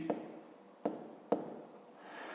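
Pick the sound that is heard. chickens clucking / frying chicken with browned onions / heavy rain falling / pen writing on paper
pen writing on paper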